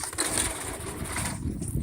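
Hand-cranked engine, started with a bit of gas and timing and the key switched on, running steadily with a rough, continuous low chugging and loud mechanical clatter throughout, close by with no talk.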